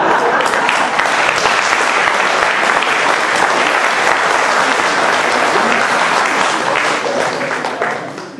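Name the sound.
audience applauding at a live comedy show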